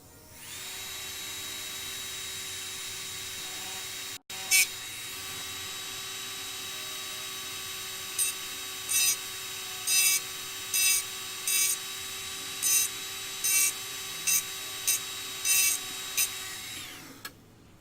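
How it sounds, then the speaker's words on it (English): A quiet rotary engraving tool, Dremel-like, runs steadily with a thin high whine while engraving a glass coffee jar, with a brief cut-out early on and repeated short scratchy bursts as the bit touches the surface. "this tool, very similar to in principle to a Dremel, only as you can hear it's a lot quieter"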